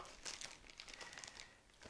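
A plastic bag holding a telescope mount's goto motor controller crinkles and rustles as it is handled and unpacked, a close, faint, continuous crackle with no talk.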